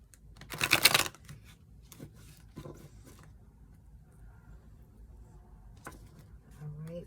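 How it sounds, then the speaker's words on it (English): Tarot cards riffled in a loud, quick shuffle near the start, followed by softer handling clicks and a brief voice near the end. "one more good shuffle here"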